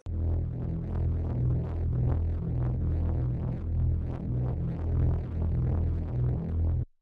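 A thick, throbbing space-ambience drone run through distortion and a Leslie amp emulator, with low rumbling tones and a gritty, swirling texture, pulsing steadily throughout before cutting off abruptly at the end.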